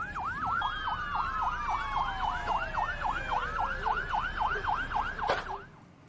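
Fire engine sirens wail at the Jeju Air crash site at Muan Airport, several overlapping in a fast, steady rising-and-falling cycle that stays loud and close before cutting away near the end.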